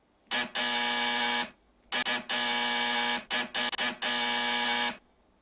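A door buzzer sound effect gives a harsh electric buzz in several bursts: one long tone, then a longer one, a quick stutter of short buzzes and a final long blast, loud and alone.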